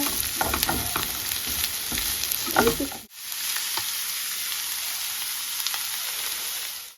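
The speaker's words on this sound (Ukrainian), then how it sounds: "Сюди додаємо моркву та перчик. І перемішуємо добренько." Onion, carrots and pepper sizzle and fry in sunflower oil for a Ukrainian borscht, with scraping stirring strokes through the first half, then a steady close, loud frying hiss continuing alone.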